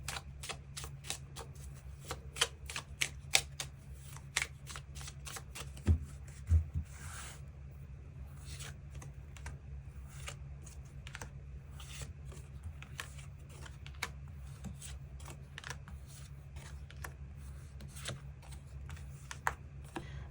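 Tarot cards being shuffled at close range, a long run of quick riffling flutters and soft slaps that repeats steadily against quiet room hiss.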